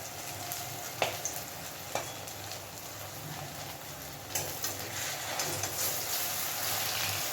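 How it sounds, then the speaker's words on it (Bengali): Chana dal fritters (bora) fry in oil with a soft, continuous crackling sizzle and occasional sharp pops and utensil taps, fairly quiet and alone. "সবকটা বড়া ভেজে নিচ্ছি"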